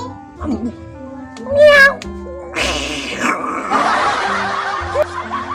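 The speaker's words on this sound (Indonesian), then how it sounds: "Oh alah, kucing. Kirain apa?" A cat gives a rising meow close by amid a noisy room, followed by bursts of people chuckling and talking.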